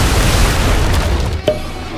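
In the video game Atlas, ship cannons fire in a naval fight, a dense roaring battle din with one sharper booming shot about midway through.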